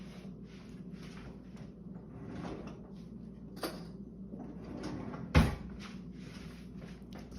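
A kitchen cupboard or drawer is opened to fetch a spoon, giving faint rustling and handling noises and then one sharp, close knock or bang near the end.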